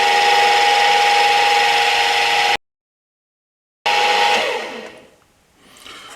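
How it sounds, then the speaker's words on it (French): Drilling a hole in metal with a very short 2.5 mm bit and cutting oil, a loud steady whine that cuts out briefly, resumes, then fades down and back up. "je vais mettre un petit peu d'huile de coupe et on va pouvoir percer gentiment"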